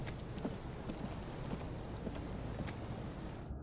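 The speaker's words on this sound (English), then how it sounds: "let's hope the rain can't get in here" Rain pours in the video game Disco Elysium, a constant hiss of drops on surfaces with faint soft knocks scattered through, quiet and steady before cutting off at the end.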